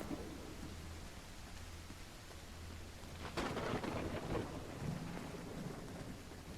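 Thunder rolls over steady rain in the video game Call of the Elder Gods, with a low rumble that swells into a louder crack partway through while the rain hiss carries on throughout.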